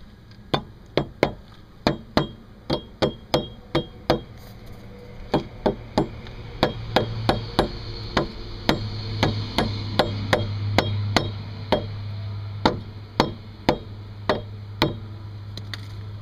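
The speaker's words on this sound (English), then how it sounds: "And then you can hit it with your rubber hammer." Sharp rubber hammer blows strike the rear hub bearing of a C4 Corvette, around thirty evenly paced knocks over a steady low hum, loud and close, with a brief pause near the middle.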